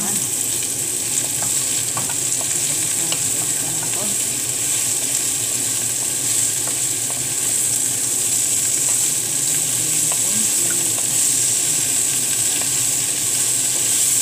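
Loud, steady sizzling of dried anchovies frying in a hot pan, a dense crackling hiss that continues unbroken, with faint scraping now and then.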